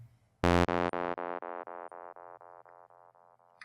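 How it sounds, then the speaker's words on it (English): A bright synth note passing through a tap delay effect, bouncing left and right, then repeating as a steady train of echoes that fade gradually over several seconds, heard alone without talk. "we also have a tap delay, which means that the first time we have right here for the left is the time that the delay is going to wait until it starts propagating a delay"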